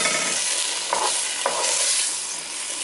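An onion mixture is stirred into a simmering pot of garbanzo bean and rice soup, giving a continuous close sizzle with two soft scraping strokes of a spoon.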